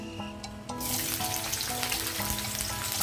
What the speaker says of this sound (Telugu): ఫస్ట్ కాలీఫ్లవర్ వేసేస్తున్నాను ఇది కొంచెం వేడెక్కేటప్పుడే